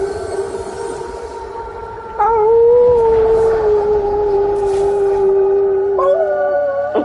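A person howls in imitation of a dog: long, wavering, sustained tones that shift pitch partway through and rise again near the end, loud and close, with no other voices.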